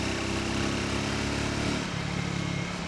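A Triumph Speed 350 motorcycle engine pulls steadily under acceleration, a continuous buzzing drone with a rising tone that stays close and loud throughout, with no talk.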